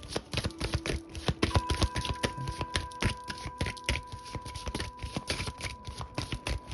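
Tarot cards shuffled by hand give a quick, loud, close run of riffling slaps and flutters, steady and continuous with no speech.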